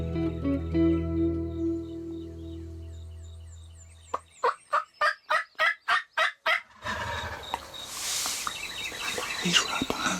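A rapid run of nearby wild turkey gobbles, about ten sharp pulses in quick succession, with other bird calls and outdoor noise around them.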